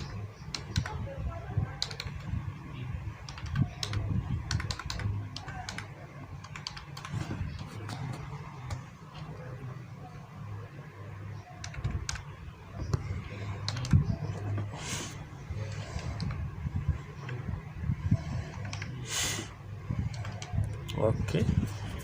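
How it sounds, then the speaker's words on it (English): An address being typed on a computer keyboard, with quick scattered key clicks in irregular bursts under low background room noise. Some faint voice is present. "let's type in our address."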